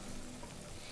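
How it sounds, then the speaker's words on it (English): Water at a rolling boil in a pot on a home stove, giving a steady, dense bubbling hiss that stays fairly loud and even throughout, with no voices over it. "Alright, this water's boiling."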